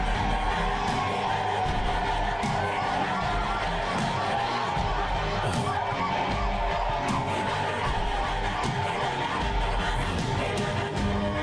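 A large crowd cheers and applauds in a dense, unbroken roar, with scattered whoops and chatter rising out of the steady mass of noise.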